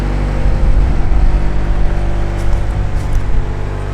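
A stripped-out racecar with a spoon shifter idles while warming up, a loud, steady low engine rumble close by with slight fluctuations and no talking.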